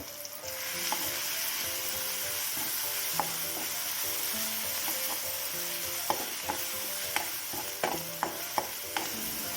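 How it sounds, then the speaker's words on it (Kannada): Coriander seeds sizzle steadily in a pan for an egg masala, with a spoon scraping and stirring throughout and sharper clicks of the spoon against the pan building toward the end. "ಹಾಗೆ ನಾನೊಂದು ಮೂರು ಸ್ಪೂನ್ನಷ್ಟು ಕೊತ್ತಂಬರಿ ಬೀಜನ ಹಾಕೋತಾ ಇದ್ದೀನಿ ಹಾಗೆ ಫ್ರೈ ಮಾಡ್ತಾ ಇದ್ದೀವಿ"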